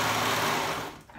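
A sewing machine runs fast and steadily while a wrap top is being sewn, its whirring hum loud and close, then slowing and stopping near the end with no talking.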